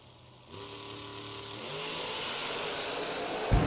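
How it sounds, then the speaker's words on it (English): A drag racing car's supercharged engine with zoomie headers starts up and rises into a loud, harsh, sustained roar, followed by a sharp burst at the end. "He's going to make a bunch of noise with the zoomies and the blower."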